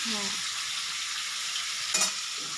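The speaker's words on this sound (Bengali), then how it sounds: "হতে থাকুক ভাজাটা আমার" Food fries in hot oil in a pan for a curry with prawns, pumpkin, potato and pointed gourd, giving a steady, close hiss of sizzling, with a brief scrape of stirring near the end and no talk.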